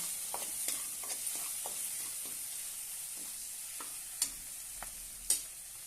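Drumstick and daal curry with salt and garam masala is sautéed in a pan, with scattered spatula scrapes and taps over a soft, steady sizzle and two sharper knocks near the end.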